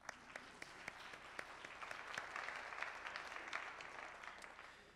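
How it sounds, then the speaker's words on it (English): Audience applause at a county all-star instrumental jazz ensemble concert: dense, steady clapping that swells slightly mid-way and fills the whole stretch without a break. "You can applaud for yourself."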